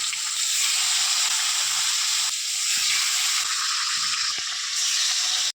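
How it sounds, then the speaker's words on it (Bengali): Pieces of rohu fish frying in hot oil, giving a steady, loud broadband sizzle that runs unbroken with faint crackles and small pops throughout, no voices. "তেল গরম হয়ে গেছে এবার আমি মাছগুলোকে ভেজে নেব"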